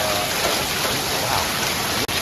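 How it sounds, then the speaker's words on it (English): Heavy rain from a severe storm near San Antonio pours down in a loud, dense, constant roar that fills the whole stretch, with a brief dropout near the end. "heavy rain"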